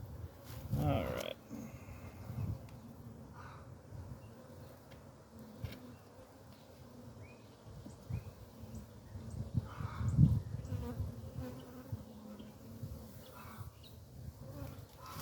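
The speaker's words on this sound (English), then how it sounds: "I think I'm going to have to get these bees in a bigger hive soon." Honeybees buzzing around a backyard hive in April, a steady low hum of many insects close by, with occasional louder passes, soft handling noises and brief distant sounds in the background.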